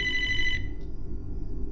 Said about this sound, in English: My mom's phone started ringing, and he ended up calling her about 16 times.